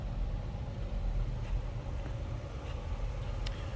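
A stock 2006 Chrysler 300 Limited AWD sedan runs steadily, its engine a low continuous rumble with no talk over it.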